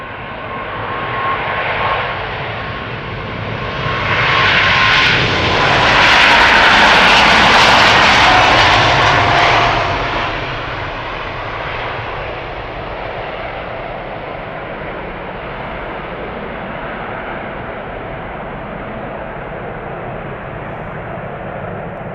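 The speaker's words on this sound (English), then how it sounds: "Going to Tokyo or to Narita is KLM flight 861, a 777-200 ER coming this way." A KLM Boeing 777-200ER jet, twenty years old, takes off at Schiphol; a loud engine roar swells over several seconds to a peak, then fades to a steady distant rumble.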